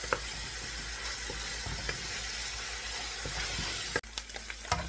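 Tomato, onions and spinach frying in a pot for Cameroonian slimy soup give a steady close sizzle with faint stirring clicks and scrapes, broken by a sharp clatter near the end.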